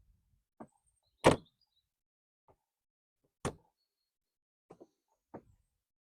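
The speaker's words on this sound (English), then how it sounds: "when I go and shut said door" Several sharp, isolated thumps at uneven intervals, one noticeably louder than the rest, as a Rolls-Royce Silver Spirit car door shuts with lighter knocks around it in a quiet setting.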